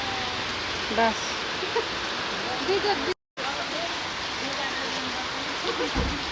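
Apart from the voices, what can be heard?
rain falling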